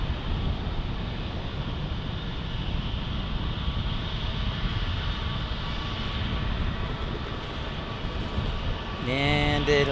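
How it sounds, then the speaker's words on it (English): A V-22 Osprey flies far off near North Island in San Diego, heard as a faint, steady droning rumble mixed with wind noise, with a voice breaking in at the very end. "there is the Osprey, the V-22 in the distance."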